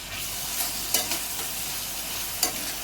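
Onion and tomato sautéing over a high flame in a pan, with a continuous bright sizzle broken by a few sharp spatula scrapes and taps, close and steady, no one talking.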